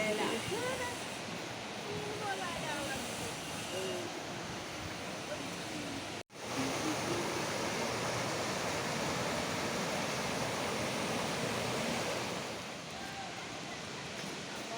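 A waterfall near Gangtok roars as a dense, steady wash of rushing water, broken once by a brief cut before resuming, with voices faintly present.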